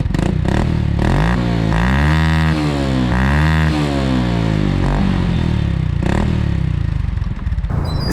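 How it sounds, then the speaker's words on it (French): A Suzuki Axelo 125 RR scooter, an air-cooled single-cylinder carbureted 125 with about 9.5 hp, runs loud and close, its engine rising and falling through several revs over a steady throb. "Son moteur est plutôt sympathique, je vous fais écouter ça tout de suite."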